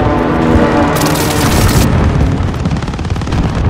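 Airstrike explosions in Call of Duty: Modern Warfare roll in as loud, dense booms with a sharp crackling burst in the middle, followed by scattered rapid gunfire-like cracks fading under continuing rumble.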